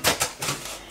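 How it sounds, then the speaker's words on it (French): Red cabbage being chopped with a knife in a home kitchen: a few crisp, close cuts in quick succession, loud and alone. "Le bruit que vous entendez, c'est Chéri qui est en train de me préparer le chou rouge pour ce soir"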